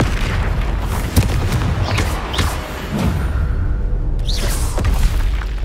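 Spell explosions from the Confringo curse in the video game Hogwarts Legacy, a run of booming blasts and bursts over continuous combat sound, fairly loud throughout.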